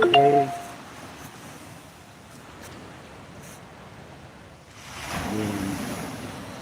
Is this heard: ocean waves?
yes